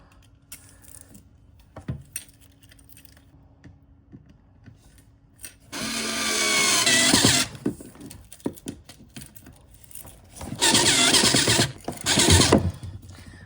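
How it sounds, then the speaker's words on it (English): A small Ozito mini power drill whirs in two sustained bursts, pre-drilling a screw hole with an oversized bit and a grinding buzz, with quieter handling clicks and knocks in between. "Pre-drill with this bit that is way too big for the job."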